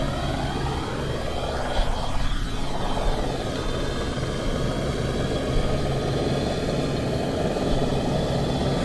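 An AS350B3e helicopter in X-Plane 11 climbs over the Himalaya with its engine straining at the limit, a loud continuous turbine whine and rotor drone holding steady throughout, with shifting pitch sweeps.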